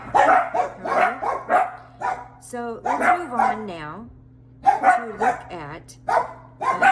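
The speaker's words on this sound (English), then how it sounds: "Excuse my dogs for a second. They'll probably do that every time. Barking at my neighbors coming home." Dogs inside a home bark repeatedly at neighbors coming home, with loud close barks, yips and whimpering mixed in, while a person keeps talking over them.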